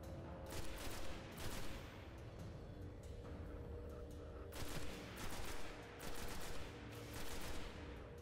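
Rifle fire from an A1 rifle in the video game Destiny, on the Moon: several rapid bursts of sharp shots at a moderate distance, separated by short gaps, over a steady backdrop of game ambience.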